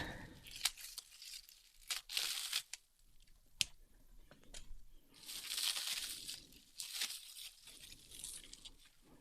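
Scissors cut into a heavily taped cardboard box holding an Anbernic RG28XX handheld console, making close, crackling tears and crunches in uneven bursts with quiet gaps between them.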